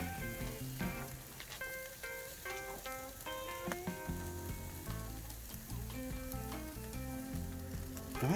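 Sirloin steak sizzling steadily in a hot pan, a loud continuous crackle with scattered sharp pops, no talking.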